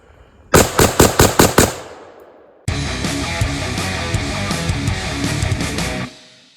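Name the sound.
AR platform rifle gunfire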